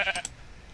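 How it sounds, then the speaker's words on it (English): A baby sheep in the Minecraft video game bleats in two quick high calls near the start, followed by quiet ambience with no talking. "Baby sheep, baby sheep."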